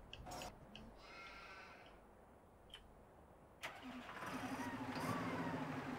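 A small tractor engine cranks and starts in Farming Simulator 2015, catching after a sharp click and settling into a rising, steady mid-pitched idle near the listener, with some faint game ambience beforehand.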